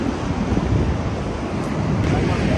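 Surf washing along Face Rock beach in Bandon, Oregon, a steady, dense rush of water that runs unbroken throughout, with wind buffeting the microphone.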